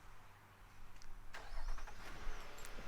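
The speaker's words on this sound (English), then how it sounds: "this feature that comes from the factory, remote start. First you lock the car, push the start button." A 2017 Nissan Murano Platinum AWD starting by remote start, a quiet hum giving way to the engine catching and settling into a soft, steady idle.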